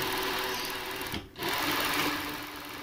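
A sewing machine stitches the lining of a dress neckline with a fast, even mechanical whir, close by, stopping briefly partway through before running again.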